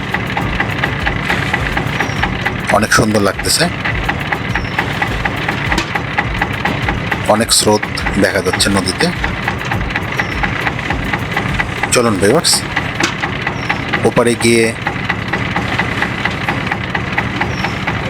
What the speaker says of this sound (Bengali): ইঞ্জিন চালিত নৌকা দিয়ে নদী পার হতে মোটামুটি ভালোই লাগছে